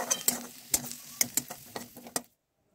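Potatoes frying in a pan of mustard oil are stirred with a metal utensil, a series of close clinks and scrapes over a soft sizzle, irregular and several in number, then abrupt silence.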